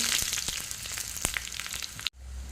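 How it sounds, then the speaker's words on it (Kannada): Dry red chillies dropped into hot oil with mustard seeds for a tempering, crackling and sizzling with sharp pops, close and lively, then cut off abruptly near the end. "ಇಲ್ಲಿ ಒಗ್ಗರಣೆಗೆ ಎಣ್ಣೆ ಸಾಸಿವೆ ಹಾಕಿದ್ದೇನೆ ಇವಾಗ ಒಣಮೆಣಸು ಹಾಕ್ತೇನೆ"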